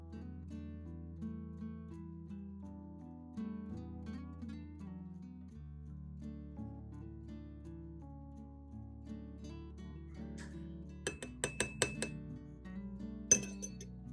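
A spoon clinks against a bowl while a teaspoon of mustard is added, a few quick, faint metallic taps near the end over a soft, steady tonal background.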